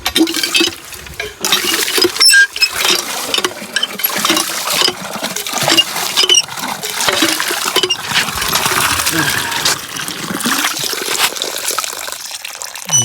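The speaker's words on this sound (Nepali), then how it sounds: "चामल धुने" Rice being washed by hand in water: steady sloshing, swishing and pattering of water and grains, loud and close, with brief pauses between rinses and no one speaking.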